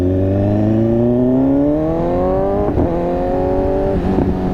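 A 2015 BMW S1000RR motorcycle with an SC-Project exhaust pulls through the gears, a loud close engine note rising steadily, broken by two quick shifts before climbing again.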